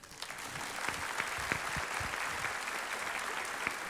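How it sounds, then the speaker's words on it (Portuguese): An audience at a conference applauds with steady, dense clapping that continues evenly for several seconds, a few individual claps standing out from the crowd. "Ele gosta de palmas, pessoal."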